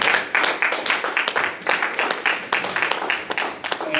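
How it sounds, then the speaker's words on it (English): Audience applause at a panel held by the Detroit Coalition Against Police Brutality: dense, steady clapping from a crowd in a hall, loud and close. It runs unbroken for about four seconds with no one speaking over it. "Please join me in giving a round of applause"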